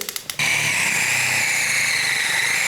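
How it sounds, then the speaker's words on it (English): After a few quick taps, a power drill with a 12mm bit runs steadily with a loud, gritty whine and low rumble, boring through material. "Now I'm going to hit it with a 12mm drill."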